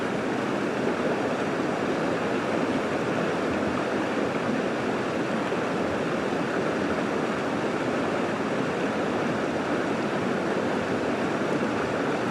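Steady rushing water from Libby Creek close by, a constant broadband flow with no pauses or other sounds.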